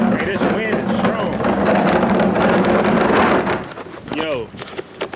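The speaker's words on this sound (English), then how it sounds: "This wind is strong." Strong outdoor wind roars against a microphone in a loud, continuous broadband rush that drops away near the end, with a person talking over it.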